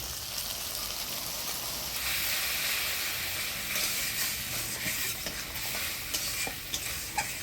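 Spice masala of ginger-chilli paste, turmeric, salt, sugar and whisked sour curd sautéed in a pan: an even frying hiss under brisk, close stirring and scraping, with a few sharper clicks near the end and no talking.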